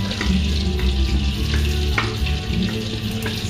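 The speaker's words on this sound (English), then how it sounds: "So now I'm going to add the onions and garlic." Onions and garlic fry in a pan with a loud, dense, continuous sizzle and occasional scraping stirs, and no voices over it.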